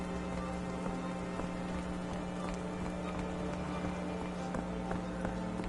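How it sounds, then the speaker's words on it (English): Steady rain falls on a cobblestone street in the Sherlock Holmes: The Awakened video game. It is a constant, even hiss with faint scattered patter, and no one speaks over it. "Also, it's raining."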